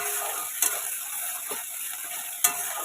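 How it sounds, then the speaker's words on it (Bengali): Onions sizzle with spice paste in a pan for an egg curry, a steady close frying hiss. Two sharp scraping stirs of a spatula cut through it. "দিয়ে এটাকেও ভালো করে একসাথে ভাজা ভাজা করে নেব।"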